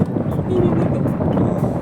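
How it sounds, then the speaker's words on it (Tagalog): Steady low wind rumbles and blusters against the microphone at Ocean Park, Hong Kong, loud and close, with no distinct voices. "Lakas ng hangin"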